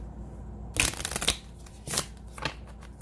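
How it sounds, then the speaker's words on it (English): Small cards riffled in a few quick bursts, a longer crisp flutter followed by two shorter ones, close up in a quiet room. "I'm going to shuffle them the other way a couple times"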